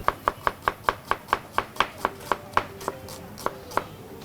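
A knife chops white onions on a cutting board for quesadillas, about fifteen crisp, evenly spaced taps at a steady brisk pace, close and clear with no voices.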